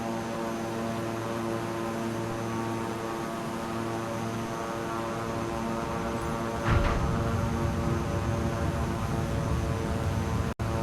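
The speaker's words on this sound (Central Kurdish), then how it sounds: "فڕۆکەکەمان نیشماندەوە" Propeller airplane engine droning steadily in a video game as the plane comes in to land, a loud sustained hum that swells with a sharp burst midway and stays heavy until a brief click at the end.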